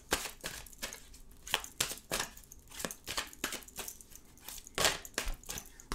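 Oracle cards shuffled by hand, a steady run of soft papery riffles and taps, close and quiet, with no voices.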